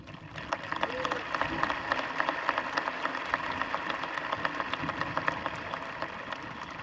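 Audience applause at a 2022 Methacton High School graduation ceremony, steady dense clapping with sharp individual claps sustained through the whole stretch at moderate distance in a large venue.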